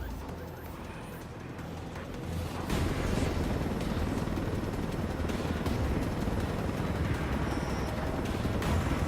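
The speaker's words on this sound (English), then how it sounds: "I told Griffin I could figure out how to fly this thing. Qualify for planes. But not choppers" A helicopter in the video game Ghost Recon Wildlands produces a steady, dense rotor and engine drone that grows louder after a few seconds and then holds, with no speech over it.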